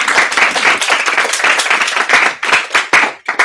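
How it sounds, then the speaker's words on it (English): Applause from an audience at a talk on a coding case study, many hands clapping fast and loud in a dense burst that thins toward the end, with no speech. "I think we'll do a round of applause."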